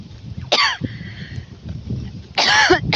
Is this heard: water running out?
no